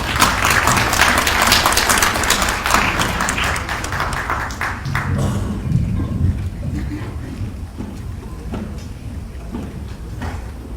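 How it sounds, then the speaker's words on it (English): An audience applauds for a speaker, with dense clapping for about five seconds that then thins to scattered claps and a quieter murmuring room. "please give her a round of applause as she comes to speak to us"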